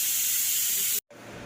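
A pressure cooker boiling vegetables gives off a loud, steady, close hiss of steam. The hiss cuts out abruptly for a moment, then resumes more quietly.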